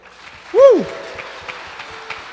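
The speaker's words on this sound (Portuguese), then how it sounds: "Vamos aplaudir o Senhor?" A church congregation applauds during a Portuguese-language evangelical service, with steady, even clapping throughout and one loud voice briefly rising over it near the start.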